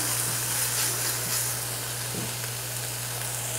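Garlic and onions sauté in a pot for a homemade roasted tomato soup, giving a steady, close, even sizzle and hiss that runs unbroken throughout, with a low constant hum underneath.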